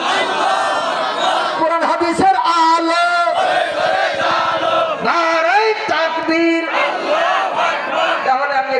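At a Bangla waz religious gathering, a large crowd shouts back in unison in answer to the Nara-e-Takbir call. The loud chanted voices overlap and swell continuously.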